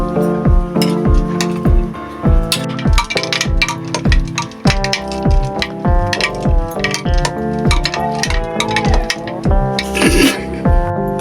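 A spoon stirs tamarind and plum sherbet with black salt, ringing against the vessel in a quick, steady run of loud, bright metallic clinks with clear resonant tones. The sound is close and continues throughout without speech.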